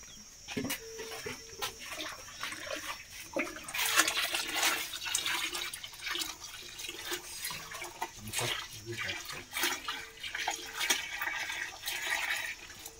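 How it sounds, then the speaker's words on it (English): Milk pouring and splashing steadily into a saucepan for homemade yoghurt, with clinks and stirring knocks throughout, close and fairly loud. "So as they pour, you mix."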